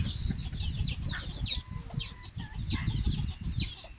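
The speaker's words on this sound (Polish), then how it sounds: "Kury wyglądają dobrze." Several hens cluck and chatter continuously nearby, with overlapping short calls and a low rumble of background noise throughout.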